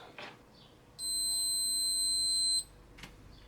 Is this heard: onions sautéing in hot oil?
no